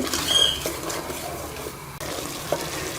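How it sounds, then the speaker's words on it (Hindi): A spoon keeps scraping and stirring sugar as it melts in a pan for mango zarda, a steady soft scratchy rustle up close with a faint sizzle and one sharp clink near the end. "इसमें मुसलसल चम्मच चलाते हुए जो है चीनी को मेल्ट कर लें ताकि चीनी जो है वो नीचे से लगे नहीं।"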